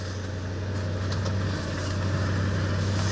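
A 1966 Ford Mustang engine idles just after starting, giving a steady, low, loud rumble with no change in pitch or level and no voices over it.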